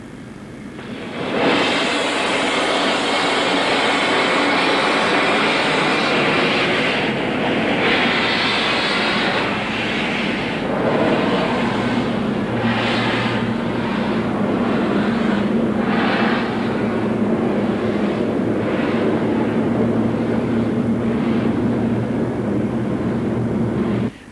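Class 5 steam locomotive 45428 moving off towards the station on a North Yorkshire moors railway: a loud, sustained roar of steam with rhythmic exhaust beats growing more regular as it gets under way, over a low steady rumble.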